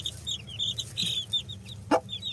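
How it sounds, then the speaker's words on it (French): A brood of fourteen young chicks peeps in repeated high, short chirps close by, with a louder single call near the end and no voices. "ils sont 14, hein. 14 petits poussins"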